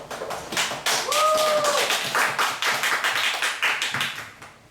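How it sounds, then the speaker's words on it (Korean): A class group reciting a passage together breaks into quick, rhythmic clapping on cue, with many hands striking in fairly even beats. A brief whistle-like tone sounds in the middle of the clapping. "박수!"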